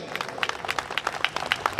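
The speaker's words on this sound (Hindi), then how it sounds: "उनका जोरदार तालियों के साथ स्वागत करें" An audience claps in welcome for director Noor at an Ambedkar Jayanti event, a sparse, uneven patter of individual hand claps rather than a full roar.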